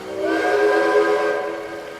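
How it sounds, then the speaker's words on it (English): A steam locomotive whistle from a cartoon tank engine sounds as one long, loud, steady tone with a bright, echoing edge, rising briefly and then fading slightly toward the end. "Wild whistles echoed and bounced off his boiler."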